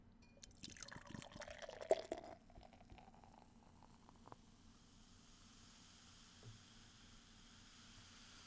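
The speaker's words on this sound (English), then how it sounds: "That's the sound of pickle beer." Pickle beer glugs and splashes as it pours into a glass, followed by a quiet fizzing that fades out.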